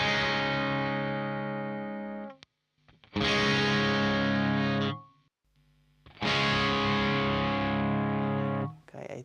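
High-register distorted electric guitar phrases played through a Neural DSP Quad Cortex and a Kemper Stage amp modeler, two sustained chord-heavy passages separated by short silences, loud and alone.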